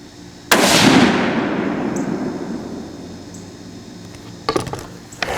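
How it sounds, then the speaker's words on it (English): A single sharp, loud 6.5 Creedmoor rifle shot fired outdoors at an 80-yard target, its blast decaying over a few seconds into a long echoing tail, followed by faint clicks and handling noises. "We're about 80, probably about 80 yards right here. Take another shot."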